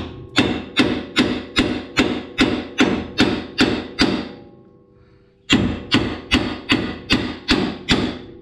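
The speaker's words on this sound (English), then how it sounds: "let's try to see if I can give it a couple whacks. Give it a couple whacks down here" Hammer whacks on a stuck nut in a first-generation Toyota Tundra's suspension, a loud, close, evenly paced run of about nine metallic thuds, a pause of roughly a second, then another run of about seven blows, with no talking.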